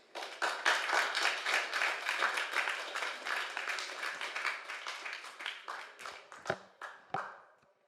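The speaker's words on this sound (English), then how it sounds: "Keep that applause going." Sustained applause from a conference audience after a report presentation, dense clapping that gradually thins out and fades, with a few last scattered claps near the end.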